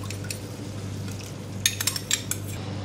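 A spoon or whisk clinks and scrapes against a bowl as 200 grams of yogurt is beaten in a home kitchen, a few quiet sharp taps and scrapes over a steady background hum.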